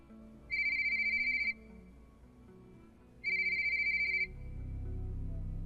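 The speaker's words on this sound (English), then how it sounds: "My phone rang." A phone plays its default ringtone: two sustained electronic ringing bursts about two seconds apart, moderately loud over a low background hum that swells near the end.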